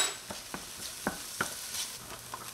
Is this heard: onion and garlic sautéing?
yes